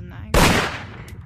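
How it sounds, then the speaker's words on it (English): A single loud, sharp gunshot bursts out in the VRChat murder game, followed by a quick decaying tail, standing alone amid faint background sound. "Why are you shooting everyone?"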